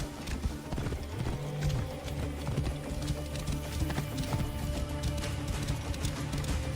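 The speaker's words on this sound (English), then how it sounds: "This must be Mered's horse." Horse in the Assassin's Creed Origins video game moving at a steady clip-clop of hooves, with a low snort or whinny under a continuous ambient game backdrop, moderately quiet.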